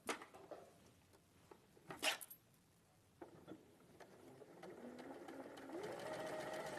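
A sewing machine stitches fabric along a marked line, with brief taps and handling noises before a steady mechanical whir builds in the last few seconds, close but fairly quiet.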